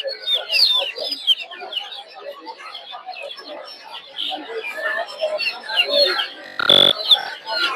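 Native hens and chicks at the Putia market in Narsingdi cluck and peep in a dense, continuous chorus close by, broken near the end by one sharp knock.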